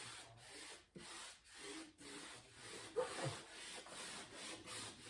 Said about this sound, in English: I'm going to lay it down with a squeegee